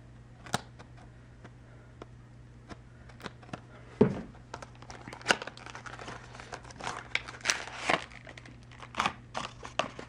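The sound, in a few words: opening plastic packaging of trial card deck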